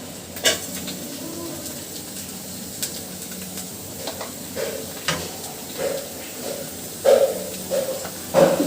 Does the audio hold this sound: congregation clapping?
no